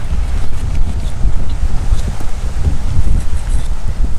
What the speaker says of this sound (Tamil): அந்தளவுக்கு பயங்கரமாக காற்று வீசிகிட்டு இருக்கு பாருங்க